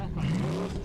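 Formula Offroad race car engine at an Icelandic off-road competition, a steady rising engine drone with a brief climbing pitch, heard close under a commentator's voice for under a second.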